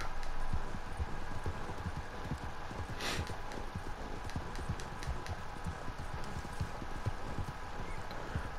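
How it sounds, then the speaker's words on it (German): Horse hooves clip-clop steadily at a walking pace with a snort, in the video game Red Dead Redemption 2, set against a continuous outdoor ambience. "Das Pferd schnauft aber auch."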